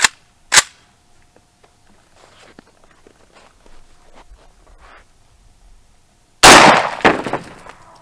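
An AK rifle firing a 124-grain 7.62x39 round into a brick outdoors, preceded by an earlier sharp crack and scattered small noises, then a loud close gunshot with the impact and debris trailing off.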